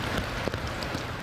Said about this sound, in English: the rain falling pitter-patter on the plastic